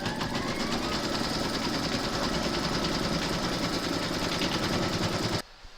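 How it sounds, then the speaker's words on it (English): An embroidery machine stitches a placement outline in a steady, fast, buzzing run, close and continuous for about five seconds before stopping abruptly. "Load file A into your machine, and then you're going to stitch round number 1"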